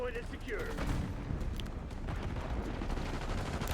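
Rapid gunfire bursts in a first-person shooter match on a hardpoint mode, including pistol shots, crackling steadily and loud throughout with game effects layered over.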